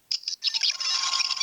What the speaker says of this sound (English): If you press it twice, then we're treated to the new diagnostic sound effect